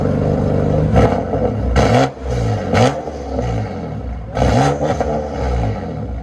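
A 2015 BMW M4 with a 3.0L turbocharged inline-six and straight-piped dual exhaust revs hard several times in bursts, loud and close, with rasping crackle between the pulls.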